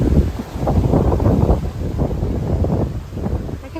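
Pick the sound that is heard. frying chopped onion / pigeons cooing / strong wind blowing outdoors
strong wind blowing outdoors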